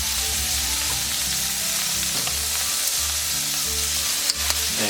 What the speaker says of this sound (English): now we're going to add our veggies back into the wok, along with some soy sauce